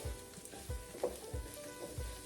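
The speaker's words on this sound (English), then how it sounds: "we'll saute that around in there for a couple of minutes" Rice sautéing in olive oil in a skillet for pilaf gives a faint, steady sizzle, with soft stirring scrapes recurring roughly every half second.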